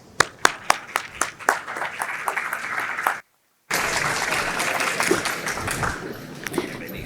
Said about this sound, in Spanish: Con un fuerte aplauso la recibimos.